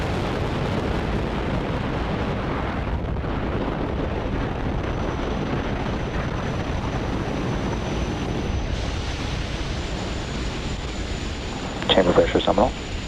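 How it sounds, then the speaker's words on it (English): A SpaceX Falcon 9 roars with a broad, continuous rumble at ignition and liftoff, a dense low-heavy wash heard from a distance, with a brief burst of crackle near the end. "Ignition and liftoff of Falcon 9."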